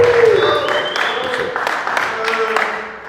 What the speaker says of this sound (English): You guys keep clapping that loud.